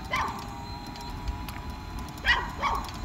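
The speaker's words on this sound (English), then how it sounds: "These are barking dogs." Dogs bark from an alley along a residential street during a trike ride, two short bursts of yipping barks near the end, fairly distant over steady road and engine rumble.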